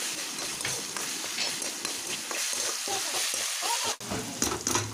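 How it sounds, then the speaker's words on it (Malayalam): Beef frying with coconut as curry leaves and stems are stirred in, a continuous close sizzle and crackle of hot oil broken by repeated scraping stirs, with one sharp knock near the end. "പിന്നെ അതിലേക്ക് കറിവേപ്പില അതിൻ്റെ തണ്ടോടുകൂടി തണ്ടും കറിവേപ്പിലയും കൂടെ അതിലേക്കിട്ട് ഇളക്കണം"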